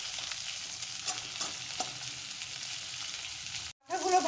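Fish heads frying in hot oil for a Bengali muriganto, a steady bubbling sizzle with a few soft stirring knocks, then a brief drop and a sharper renewed crackle.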